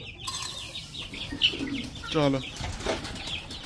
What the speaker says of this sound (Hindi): ये देखें चूजे हमारे बेताब खाना खाने के लिए सारे